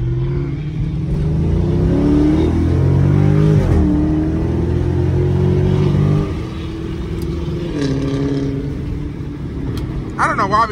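Stock Dodge Charger SRT 392 engine accelerating hard on city streets, a loud deep rumble climbing in pitch, then easing off to a lower steady drone, heard close from inside the car with voices in the background.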